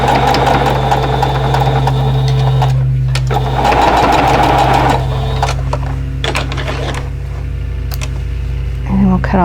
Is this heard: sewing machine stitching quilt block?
yes